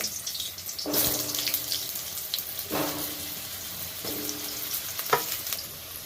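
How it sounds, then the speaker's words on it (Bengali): Potatoes frying in hot oil in a home kitchen pan, giving a steady sizzle with a few louder bursts as pieces go in or get stirred, heard close and with no talking. "অয়েলটা আমার গরম হয়ে গেছে আমি আলুগুলো দিয়ে দেব আলুটা ভেজে তুলে রেখে দেব"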